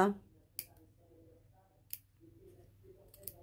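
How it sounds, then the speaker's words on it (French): Scissors snip through fabric along a marked line for a piped buttonhole, three sharp separate clicks spaced apart, as someone talks quietly between the cuts. "Donc, on va couper sur mon trait du milieu. Alors, je coupe."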